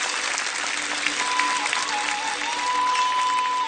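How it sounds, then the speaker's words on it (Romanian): A studio audience gives steady, full applause for a folk dance troupe on a talent show, a continuous dense wash of clapping with a faint tonal hum running underneath. "Doamnelor și domnilor, aplauze pentru trupa Fallen Brew!"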